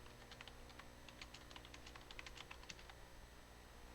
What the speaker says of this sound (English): Hear your keyboard in the background